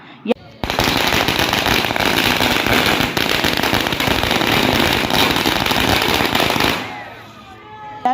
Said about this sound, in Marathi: फटाक्यांची आतिषबाजी करून जल्लोष साजरा करण्यात आला